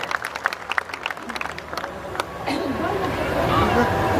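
At a comic poetry recital, scattered individual claps and murmuring come first, then the audience breaks into full, dense applause that swells and holds, with chatter beneath.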